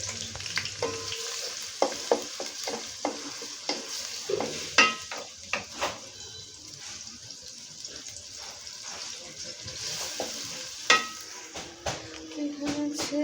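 Oil, onion, bay leaf, cinnamon and cardamom sizzling in a pan on the stove for a duck curry, with repeated clinks and scrapes of a spoon stirring, alone without talk.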